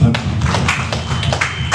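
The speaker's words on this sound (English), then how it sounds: "As you are coming, clap your hand for them" Church congregation clapping for the choir as it comes forward, loose irregular hand claps and thumps close by, uneven in rhythm over a low murmur of the room.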